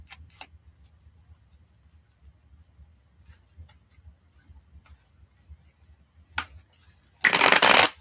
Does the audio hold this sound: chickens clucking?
no